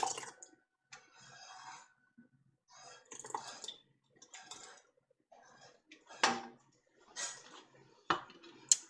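Green tomato chili base spooned and poured into a glass canning jar, a series of separate wet plops, drips and clinks in irregular bursts with quiet gaps, close and fairly soft.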